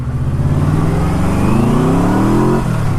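Yamaha Royal Star Deluxe motorcycle with a V4 engine revving, a loud, close, rising engine pitch that climbs steadily for about two and a half seconds and then drops off.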